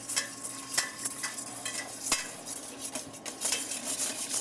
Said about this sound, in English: you definitely want to keep stirring this until it thickens